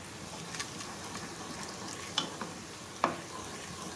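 Whole green cardamom pods, cloves, black peppercorns and cinnamon stick pieces fry in oil with a soft, continuous sizzle, broken by a few sharp pops and light stirring clicks.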